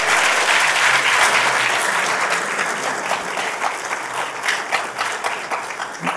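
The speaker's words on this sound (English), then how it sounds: "Give him another round of applause." Audience applause at an awards ceremony during a university student project showcase, a dense steady clatter of many hands that holds strong and gradually eases, with no talking over it.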